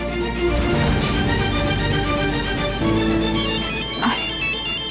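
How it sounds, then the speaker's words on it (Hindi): Mobile phone ringtone playing a repeating melodic tune, steady and fairly loud throughout, in a domestic indoor scene from a Hindi TV drama, with faint voices briefly underneath. "हमारा ही फोन बज रहा है।"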